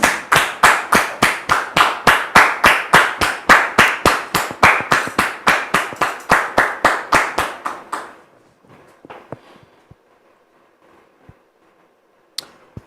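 Rhythmic clapping in unison, loud and steady for about eight seconds, then fading out into a few scattered claps and quiet.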